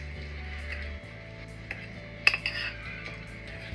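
A utensil clinks against a bowl while pancake batter is given a final mix, light scraping and a few sharp close chinks over a low steady hum, no voices.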